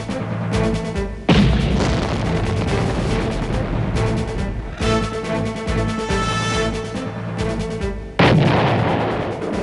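Modern guns firing smart ammunition let off heavy, booming artillery-like blasts, loud and close, in rapid bursts with dense rolling reverberation between shots.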